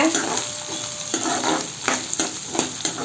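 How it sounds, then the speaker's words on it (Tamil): Shallots and curry leaves fry in a pan for an eggplant kara kuzhambu, a close, continuous sizzle broken by regular scraping strokes of a spoon stirring against the pan. "வெங்காயம் வதங்கணும்"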